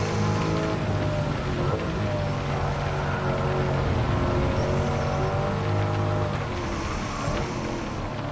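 Rain hisses steadily over a racing car's engine drone in Gran Turismo 7 on a wet circuit. The engine rises and falls through gear changes beneath the constant wash of rain.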